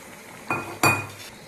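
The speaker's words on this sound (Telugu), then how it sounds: "మూత పెట్టుకుందామండి" A metal lid goes onto a cooking pot of fish curry with raw mango, two quick close clanks in succession with a brief ringing tail.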